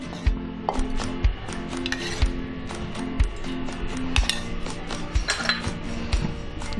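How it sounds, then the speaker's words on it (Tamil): Knife finely cutting shallots, garlic, coriander and curry leaves on a board for Chettinad dal dumpling curry, a steady run of close, sharp tapping chops with some clinks and scraping. "சின்ன வெங்காயம் நைஸாக கட் பண்ணிக்கணும், பூண்டு நைஸாக கட் பண்ணிக்கணும், மல்லித்தலையும் கருவேப்பிலையும் நைஸாக கட் பண்ணிக்கணும்"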